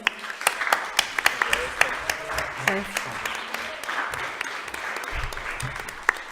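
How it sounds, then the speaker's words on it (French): Scattered audience applause greets magician twins at a radio show taping, sharp individual claps standing out over a light crowd murmur, with voices talking beneath the clapping. "Vous pouvez les applaudir très fort, s'il vous plaît."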